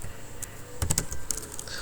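Quick, soft keystrokes on a computer keyboard, a short irregular burst of clicks and taps, quiet and close with no voice over them.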